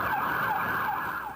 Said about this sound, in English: My partner and I, we went lights and sirens heading towards that call